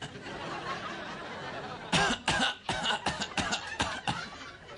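A comedian on stage imitates a non-smoker's exaggerated cough, a rapid series of loud, harsh hacking bursts after a stretch of crowd murmur, mixed with audience chuckles.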